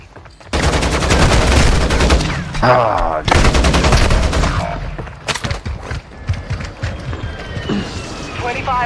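Rapid semi-automatic gunfire from Call of Duty: Warzone 2 on Ashika Island crackles in loud close bursts, broken by short pauses, with game voices and a player talking over it.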